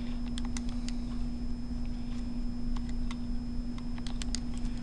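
Keys tapped while entering a calculation on a calculator or keyboard, scattered light clicks in irregular rhythm, faint and close over a steady electrical hum.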